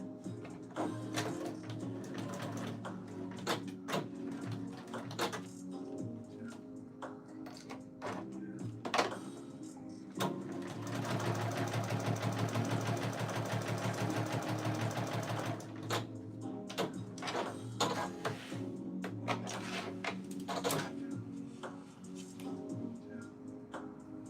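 A sewing machine stitches a vest in steady, whirring runs with fast mechanical ticking, pausing briefly between passes, close by and alone without talk.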